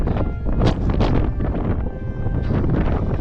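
Wind gusting across a foggy mountain road near the summit of Pic de Nore, a loud, steady broadband roar buffeting the microphone with a few stronger surges and no voices.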